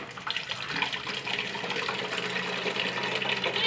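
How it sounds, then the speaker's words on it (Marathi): Drinking water runs from a tank tap into a container, a continuous close splashing gush that stays fairly level with a slight rise toward the end, no talking. "प्यायचं पाणी येतं भरून"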